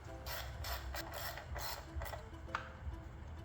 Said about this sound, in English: Then finish it off with the socket and ratchet.